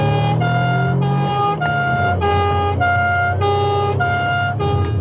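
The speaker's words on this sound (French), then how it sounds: "il y a des boutons magiques, le gyrophare et le pimpon" A French gendarmerie Alpine police car siren wails in a loud, close two-tone pattern, repeating steadily and alone without talk.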